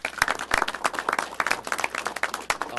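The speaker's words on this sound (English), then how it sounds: "Give them a round of applause." An audience at a city officials' winter weather briefing claps in a brief burst of dense applause heard from nearby.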